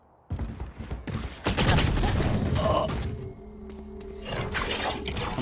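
Suppressing gunfire in a team tactical shooter video game, a dense rapid burst of shots that runs loud and continuous through most of the stretch, with faint background game sounds and no talk over it.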